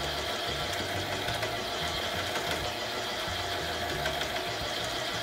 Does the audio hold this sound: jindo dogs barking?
no